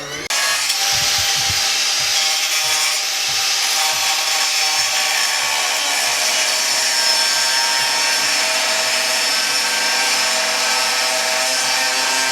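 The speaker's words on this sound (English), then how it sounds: "Now just to grind and clean everything up." A harsh, continuous grinding roar on metal while fitting a K20 engine into an EG Honda Civic, loud and close, with a steady abrasive hiss and no speech.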